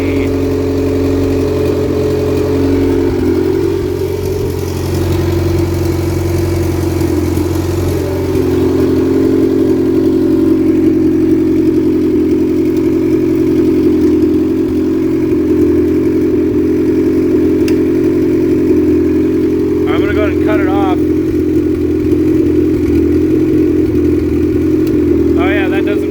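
Engine idling on its first startup after a Z6 crankshaft install, a steady, loud mid-pitched running drone held throughout with slight swells, plus a couple of brief higher metallic chirps near the end.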